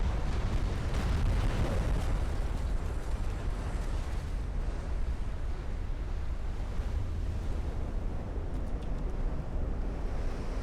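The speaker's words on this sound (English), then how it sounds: "Oh, there's a flash fire." A flash fire erupts aboard a warship during a gunline battle in the naval video game Ultimate Admiral Dreadnoughts, giving a dense, continuous roar that stays loud and even for the whole stretch with no speech.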